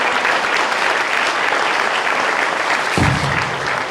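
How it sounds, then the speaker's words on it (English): An audience in a high school gathering claps for a veteran at a Veterans Day event, a loud, continuous round of applause throughout. "Big round of applause, please."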